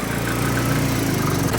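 A car engine idles steadily just after starting on an aftermarket ECU, a close, even, loud rumble with no talk over it.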